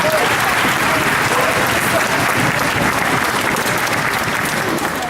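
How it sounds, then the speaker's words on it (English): An audience at a spring concert applauds the accompanist with loud, steady, dense clapping that fills the room evenly throughout, with no pause or break. "one more round of applause for Viv."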